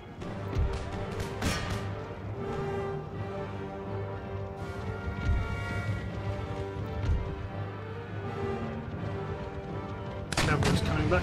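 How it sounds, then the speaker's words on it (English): Artillery fire on an Empire Total War battlefield: a few dull booms and cracks scattered over a sustained orchestral music bed, moderately loud, with a brighter burst near the end. "retarget my artillery against battlefield targets"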